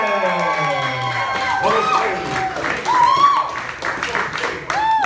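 Comedy club audience greeting the next comedian with a burst of applause and cheering, mixed with crowd noise and a host's voice calling over it.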